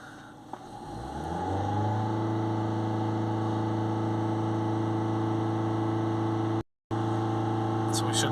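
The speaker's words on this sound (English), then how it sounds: "Now we can start the van up." A Ford Transit Custom 2.2 diesel van engine cranks, catches and settles into a steady running drone with a strong low hum, loud and close, with a brief cut near the end.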